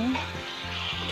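A hilsa fish head fries in spice paste in a pan, a continuous close sizzle with stirring scrapes, while a low hum runs underneath throughout.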